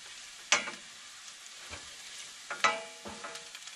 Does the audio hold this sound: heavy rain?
no